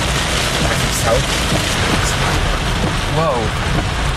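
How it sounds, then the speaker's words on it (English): Heavy rain pours steadily during a Florida thunderstorm, a loud dense wash throughout with faint thunder rumbling low beneath it and a brief voice heard in the downpour. "The rain is so heavy"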